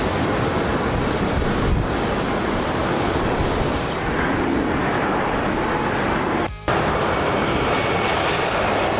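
Spirit Airlines airliner on the runway, a loud, continuous broadband roar of jet engines, steady and close with a brief dip near the end.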